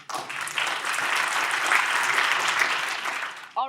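Applause for the speakers at a machine learning in drug discovery symposium, a steady crowd clapping heard as if from outside the room, ending abruptly as a voice begins.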